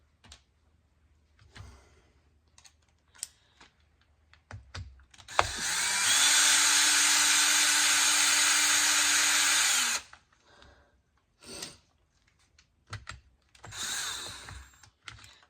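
A power driver whirs steadily for about four seconds while backing bolts out of a Traxxas 4-Tec RC car, surrounded by small clicks and handling taps before and after.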